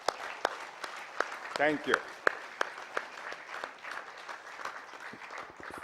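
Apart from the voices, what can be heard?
audience applause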